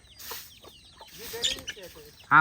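Chickens cluck and squawk in short bursts nearby, with a few brief calls overlapping before a sharp louder cry at the end.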